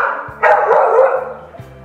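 Dogs bark nearby in a single loud, rough burst, followed by a fading echo and some low background noise.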